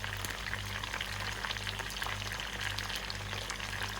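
Halved tomatoes drop into a pan of Peshawari Shinwari chicken karahi, setting off a steady, fairly quiet crackling sizzle and frying hiss with no talk.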